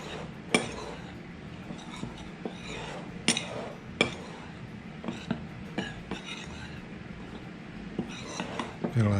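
Biscuit ingredients are mixed by hand in a bowl. A utensil clinks and scrapes in a quick, uneven rhythm close by, with faint background voice.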